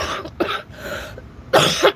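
A few sharp coughs, loud and close, with a cluster at the end; one person coughing in a quiet room, no talk.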